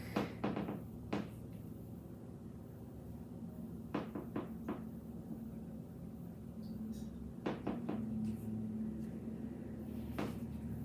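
A wooden floor creaks and knocks beneath a yoga mat as someone shifts through slow circular movements, with scattered close clicks and creaks against a quiet room hum.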